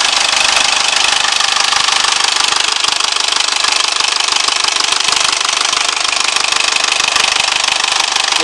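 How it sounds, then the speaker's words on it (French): Mercedes C220 CDI W202 diesel with the OM611 engine idling after renovation, giving a loud, close, steady clattering diesel knock that continues evenly throughout with no voices. "Mais voilà, le moteur tourne impeccable."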